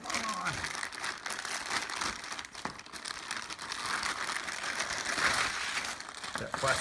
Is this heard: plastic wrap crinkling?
yes